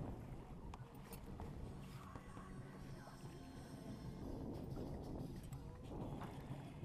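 A solo sailboat drifts off the Île d'Oléron with waves lapping at the hull and wind buffeting steadily, a constant low rush with soft splashes.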